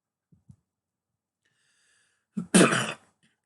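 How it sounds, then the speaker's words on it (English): One harsh, close cough bursts out after a couple of faint breaths, loud and brief against otherwise near-silence. "Sorry about all the coughing and stuff."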